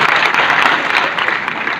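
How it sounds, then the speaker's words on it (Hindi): Audience applause fills a hall at a regional industry conclave, a steady dense clapping from a crowd, loud and close throughout with no voices over it. "आप जरा ताली वाली बजा दो सबके लिए।"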